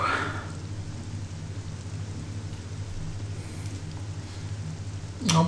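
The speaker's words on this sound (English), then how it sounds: "The rain is back, whoa!" Rain falling in the video game The Elder Scrolls III: Morrowind, a soft steady patter over a low droning ambient hum, with a sharper burst at the end.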